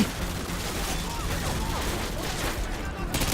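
Rapid shotgun blasts in the video game Call of Duty Modern Warfare 2 come in a dense, loud volley under excited talk.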